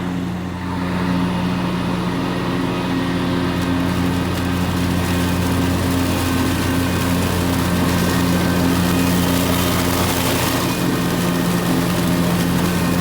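An eXmark Lazer Z X series lawn mower fitted with gator blades runs steadily close by, a loud, constant engine drone with strong low hum that holds level throughout with no talk.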